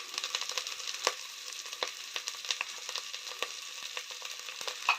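Homemade mutton masala fries in hot oil, a close, continuous crackling sizzle dotted with sharp pops and stirring scrapes.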